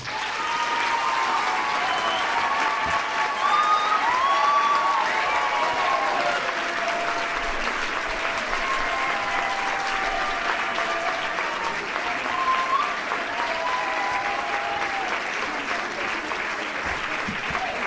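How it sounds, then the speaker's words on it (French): An audience applauds dancers at a dance show, sustained dense clapping from a large crowd that carries on evenly throughout with a faint murmur of voices beneath. "Est-ce que vous pouvez faire un tonnerre d'applaudissements pour les danseuses de Gignac, s'il vous plaît?"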